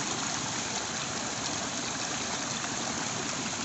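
A river rushes steadily where water drops steeply into a waterfall, making a constant, loud broadband roar with no voices.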